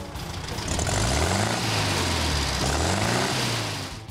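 Air-cooled Volkswagen Beetle (Fusca) engine running in a specialist repair workshop, a loud close throaty idle with steady rhythmic putter and a slight rise in revs mid-clip.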